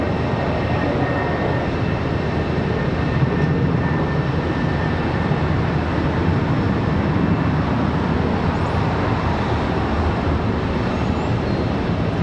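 An airliner taking off at Charlotte Douglas airport, a loud, sustained broadband jet roar that holds steady throughout with no voices.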